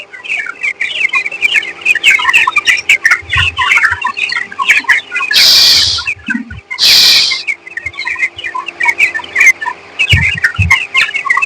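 Broiler chickens in a hot poultry shed with fans running cluck and chirp continuously as a flock, close by, with soft repeated panting and a couple of louder bursts of flapping or rustling in the middle.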